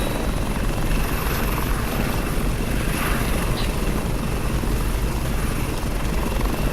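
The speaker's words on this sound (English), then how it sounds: "Now the helicopter, much like anything in any other Battlefield or any other first-person shooter, is a little difficult to fly." Helicopter flying over an island in a CryEngine 3 first-person shooter level, a continuous loud rotor and engine drone with constant deep thumping, steady for the whole stretch and heard alone.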